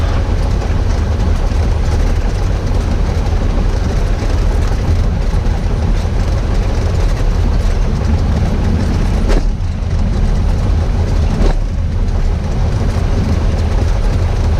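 Small airplane engine taxiing toward the runway end ahead of a run-up, a steady loud low rumble and drone filling the whole stretch, with two brief sharp clicks or knocks partway through and no voices.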